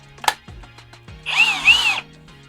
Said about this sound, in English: So it's only got one speed on the impact driver.